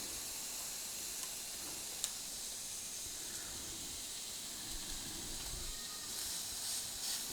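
A ribeye steak searing in a cast iron pan gives a steady, even sizzle and hiss that runs the whole time, moderately quiet with a few faint pops.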